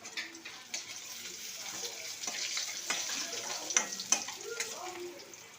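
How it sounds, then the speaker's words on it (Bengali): Pointed gourd (potol) frying in a pan gives a steady, moderately close sizzle with scattered crackles and a few scraping stirs, with faint running-water sounds in the background. "দেখো আমি পটলটা ভাজছি"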